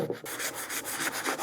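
Wood is sanded by hand in quick back-and-forth strokes, a rhythmic close-up scratchy rubbing with regular pulses and no voices.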